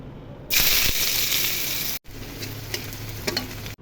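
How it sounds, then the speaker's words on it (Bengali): Pieces of catla fish hit hot oil with a sudden loud sizzle that keeps up a dense, close hiss. After a brief cut it carries on more quietly with scattered spits and crackles. "তেল গরম হয়ে গেছে, এখন মাছগুলো ভেজে নিব।"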